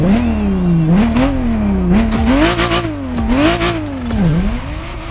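Ferrari Testarossa engine in The Crew Motorfest racing game, loud and close, revving repeatedly as the pitch climbs, drops and climbs again through several gear changes, with a steady rough growl underneath.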